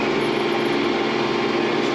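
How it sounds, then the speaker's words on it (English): A tractor engine drones steadily and loudly with the planter drill lowered while planting beans, a continuous close mechanical hum with no break. "I can press that button, drop the drill, and rev her up"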